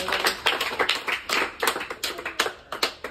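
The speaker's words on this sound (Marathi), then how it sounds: "प्रथमतः आपण शाळेच्या वतीने त्यांचं जोरदार टाळी वाजवून स्वागत करायचं आहे." A school audience gives a warm welcoming round of applause for a visiting social-service team at a school for children with intellectual disabilities in Pabal, Shirur, Pune. The clapping is dense and continuous with strong rhythmic bursts, fairly close, and no talk.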